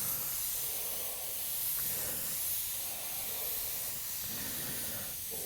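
Steady spray-gun hiss of paint being laid on at an angle to blend a blue gradient fade over pinstripe graphics, continuous and close with slight swells in level.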